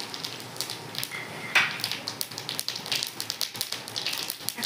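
Cinnamon, cardamom pods, cloves and cumin seeds dropped into hot oil for tempering, a crackling, popping sizzle with rapid irregular spits, close and moderately loud.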